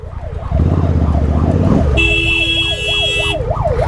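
An ambulance siren wails in a steady rising-and-falling cycle over dense road traffic, loud and near, with engine rumble below and a car horn blaring partway through.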